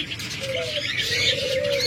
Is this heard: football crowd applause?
no